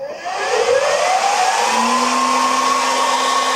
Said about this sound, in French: Je mets le ventilateur.